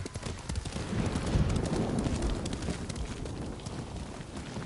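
A horse gallops in Ghost of Tsushima, a fast, continuous clip-clop of hooves on open ground, fairly close and steady throughout, without speech.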